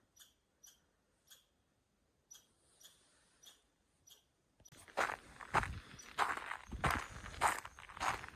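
Squirrels in snowy woodland at a nature reserve, a few soft, regularly spaced chirps and clicks at first, then louder crunching footsteps on snow take over nearby.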